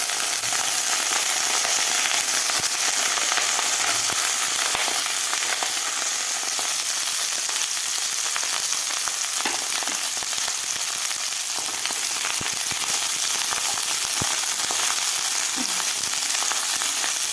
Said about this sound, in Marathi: आता यामध्ये आपल्याला ही ब्रोकोली आणि बटाटा फ्राय करून घ्यायचा आहे तेलामध्ये